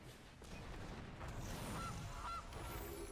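A short goose honk from the Goose card in the Magic: The Gathering Arena digital card game, two brief nasal calls sounding close over a flat, steady backdrop.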